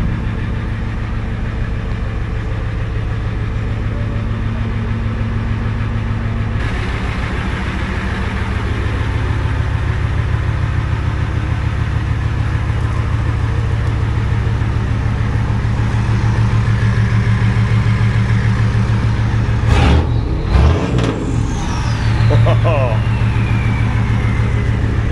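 An old baby-blue truck idles at the Utility Expo with a steady, loud engine rumble throughout, and a brief clatter comes near the end. People talk over it.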